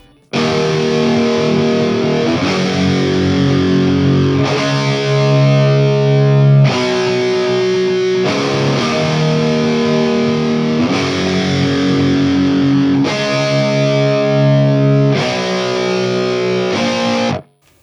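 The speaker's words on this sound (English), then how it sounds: "So that's of course the distortion sound" Heavily distorted electric guitar with a preset plays loud, sustained power chords that change every couple of seconds, a dense wall of sound with no voice.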